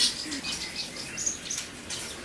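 White-rumped shama birds chase each other during pairing, their wings flapping in soft, fluttering bursts with faint chirps over a steady background hiss.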